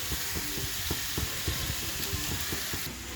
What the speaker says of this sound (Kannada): ಇದು ಕಿವುಚಿರೋ ಹುಣಸೆ ಹಣ್ಣಿನ ರಸ. ಇದು ರಸ ಹಾಕ್ತಾಯಿದ್ದೀನಿ.